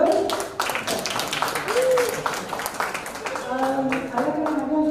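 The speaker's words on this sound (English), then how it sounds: "Big round of applause to all our collaborators." Applause for the collaborators at a calligraphy exhibition, a moderate round of clapping from a gathered crowd with voices and chatter running underneath.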